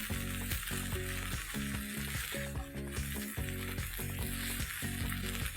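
Tomato gravy, thick and seasoned with salt, sizzles steadily in a pan as it is stirred, a constant close frying hiss with rhythmic scraping from the stirring. No one speaks.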